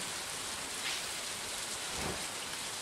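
Steady rain falls in the video game Stardew Valley, a dense, even hiss of drops that stays constant throughout with no voices or other sounds.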